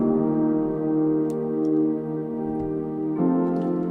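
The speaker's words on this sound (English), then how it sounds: "those 4 layers right here, which is kind of like the pads slash chords" Sustained layered synth chords hold steady, rich and tonal, shifting to a new chord near the end.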